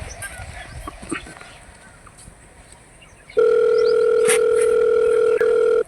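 A telephone call tone: after a stretch of low background noise and voices, a loud, steady electronic tone starts abruptly and holds for a couple of seconds, close and clear.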